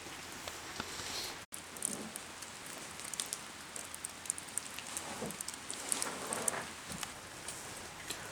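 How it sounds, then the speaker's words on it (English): Cold rain falling on the Doe Run Shelter along the Old Loggers Path, a steady soft patter of drops on the roof with scattered louder taps, no voices. "It's cold and it is raining."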